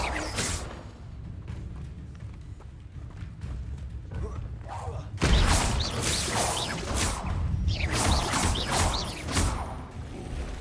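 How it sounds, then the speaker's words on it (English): An Expelliarmus spell cast in the Hogwarts Legacy video game bursts out as a sudden, loud whooshing crash midway through, among other game effects and intermittent talking. "Expelliarmus."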